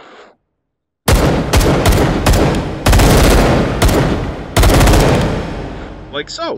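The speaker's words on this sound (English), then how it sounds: "And if I continue to pull the trigger back, we get our full auto." Full-auto fire from a bullpup rifle in the VR game H3VR, a single shot followed by several loud rapid bursts with brief gaps, and a short spoken remark before and after.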